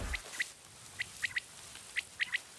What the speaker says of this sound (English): It's an interesting bird.